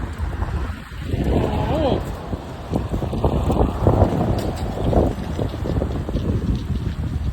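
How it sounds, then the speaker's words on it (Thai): Strong gusting wind of a sudden summer storm roars and buffets the microphone continuously, a loud broadband rush with shifting gusts, while faint voices and rustling debris sit underneath. "ไปแล้วลมแรงมาก เพื่อน ยังไม่สงบนะครับยังไม่สงบ"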